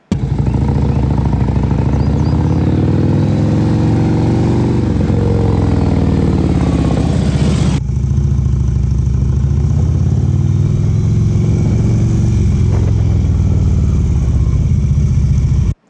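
A motorcycle ridden at speed while countersteering through turns, its mid-pitched engine droning loud and steady with wind noise throughout, the tone dipping briefly partway through.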